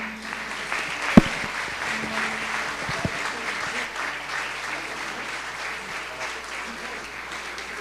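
A church congregation at a family worship service applauds steadily and fairly loudly for several seconds, a dense wash of clapping with a couple of sharper, louder claps standing out near the start.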